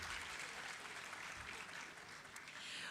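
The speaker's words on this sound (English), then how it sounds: "Please, a round of applause for the Wind and Sam" Audience applause at the Ghana Higher Education Summit, a faint, steady wash of clapping that carries on evenly for the whole stretch with no voices over it.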